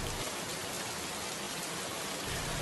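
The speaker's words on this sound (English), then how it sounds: "Mostly it's just raining." Steady rain falls, a dense even hiss of drops on surfaces, moderately quiet and unbroken, with no voices.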